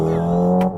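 A Hyundai Ioniq 5 N in N E-shift mode plays a brief synthetic engine tone inside the cabin, a steady droning hum that drops off sharply at a simulated gear change.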